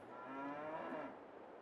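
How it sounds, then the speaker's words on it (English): A cow on an old countryside farm gives one drawn-out moo, close and fairly clear, lasting about a second. "Cows are ready to rumble."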